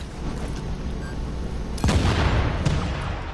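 Gunfire and a vehicle blowing up in the video game The Division, with steady shots giving way to a loud burst near the two-second mark and another sharp hit shortly after.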